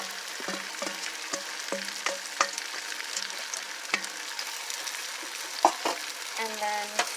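Vegetables, onions and garlic sizzle in melted butter in a pan over medium heat, with a steady crackle broken by sharp, scattered clacks of a utensil stirring, close and fairly loud, with no voices.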